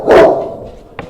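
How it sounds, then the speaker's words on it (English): One loud, close dog bark played as a sound effect, sharp and fierce, followed by a short fading tail and a fainter clipped yip just before the end. "And then hourglass starts barking ferociously at you."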